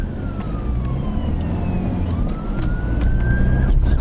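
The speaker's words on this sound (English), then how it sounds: "There's an ambulance coming up." An ambulance siren wails with rising and falling tones over steady road and engine noise from a car on the road, holding near and loud for the whole stretch.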